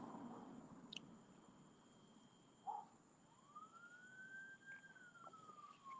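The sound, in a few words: ambulance siren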